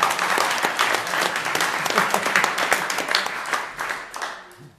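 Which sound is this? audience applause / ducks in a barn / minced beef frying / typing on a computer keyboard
audience applause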